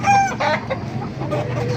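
Several chickens cluck and squawk close by in a short burst at a market in Baliuag, Philippines, with a rooster-like call among them over a low background hum.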